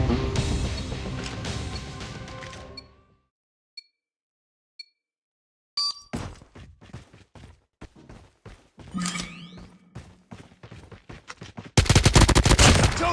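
Gunfire in the survival video game Rust, with a sustained burst of automatic fire, a pause of near silence with faint ticks, then a run of rapid shots and another dense volley at the end.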